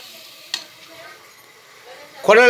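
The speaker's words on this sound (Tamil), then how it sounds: "ஒய்ஃப் சமையல் பண்ணுதுங்க, குழம்பு வைக்குதுங்க" A wife cooking kuzhambu, a curry, at home: a quiet steady sizzle with one sharp stir or clink of a utensil early on, and a voice speaking at the very end.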